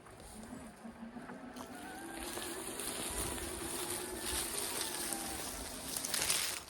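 An electric four-wheel-drive side-by-side UTV wades through creek water, with a soft motor whine rising gently under continuous splashing and sloshing that swells toward the end.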